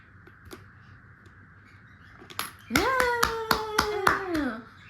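A child claps hands about six times in a quick, even rhythm, sharp and close, accompanied by a child's high-pitched voice; a few softer taps come earlier.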